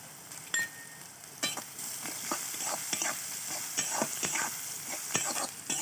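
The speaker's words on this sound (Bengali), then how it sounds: "পেঁয়াজটা হালকা হালকা করে ভাজা হবে," Onion frying gently in oil in a pan, a steady close hiss of sizzling broken by the scrape and clatter of stirring every second or so.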